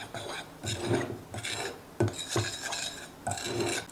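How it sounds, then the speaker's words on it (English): A metal knife stirs dry baking ingredients in a bowl, making scraping, clinking strokes that come in several bursts over the span, each rising and fading, close and fairly clear with no talking. "we're just going to mix this around a little bit. I'm just going to use my knife."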